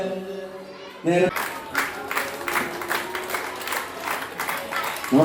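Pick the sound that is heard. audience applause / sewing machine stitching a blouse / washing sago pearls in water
audience applause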